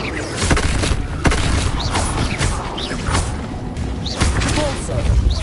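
Fire spell cast in the Hogwarts Legacy video game amid busy combat effects: whooshes, thumps and creaking bursts over dense game music, with a voice calling out spell names throughout.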